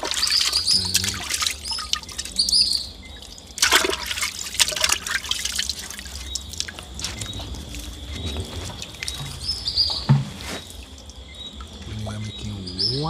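Water running and splashing while meat is washed with vinegar water, an irregular trickle and pour with drips and handling splashes, close up, with no talk.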